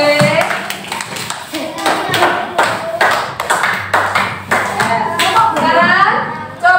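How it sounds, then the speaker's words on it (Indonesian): A classroom of students claps for a discussion group, uneven loud nearby hand claps in a loose rhythm, with voices talking over them. "tepuk tangan buat kelompok B"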